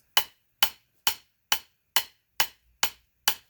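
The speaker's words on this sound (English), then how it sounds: "Listening to a metronome." A metronome ticks eight sharp, evenly spaced clicks at a brisk steady tempo, close and clean with nothing else around them.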